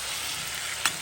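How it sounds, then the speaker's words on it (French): Swordfish curry frying in a pan over lowered heat, a steady close hiss of sizzling with one brief sharper crackle near the end, no voices. "Il baisse bien mon feu et il me laisse cuire."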